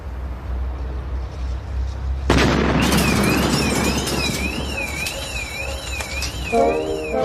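An explosion goes off after firing: a low rumble gives way to a sudden loud boom and burst, followed by a long noisy wash with a warbling alarm-like tone and scattered clatter.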